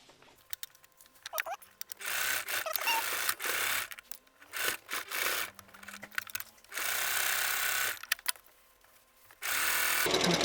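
Home sewing machine stitching through thick seams of fabric scraps for a wheat bag cover, running in several bursts of steady mechanical whirring separated by short pauses.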